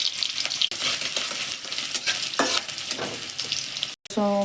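Tempering spices sizzle and crackle in hot oil in a pan while potato, aubergine and bori curry is cooked, a loud continuous fry with a few sharp pops and a brief clink near the end.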